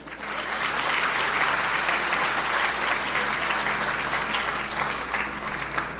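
An audience at a spiritual discourse applauds, a steady dense wash of clapping from many hands that holds for several seconds.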